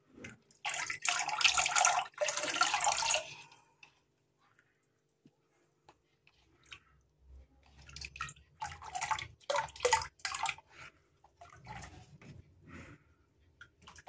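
Water is poured from a mug into an angelfish aquarium, giving a splashing, trickling rush at the start, a quiet pause, then more uneven splashes and drips that come and go.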